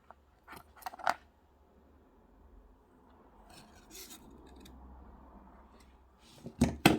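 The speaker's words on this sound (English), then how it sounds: "We'll cut that wire and press it flat." Jewelry wire is cut and worked for a square wire-wrap pendant: a few sharp, close snips and clicks at the start, a quiet rubbing stretch, then louder crisp snips and metallic handling at the end.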